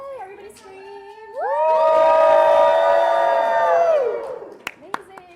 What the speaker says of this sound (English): Yay, everybody scream!